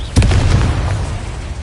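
Confringo fire spell from Hogwarts Legacy blasting off with a loud booming burst that rumbles deep and fades into a lingering roar.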